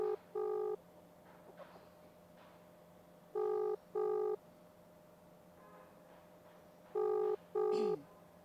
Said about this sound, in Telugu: మనం చాలాసేపటి నుంచి ఫోన్ చేస్తున్నాం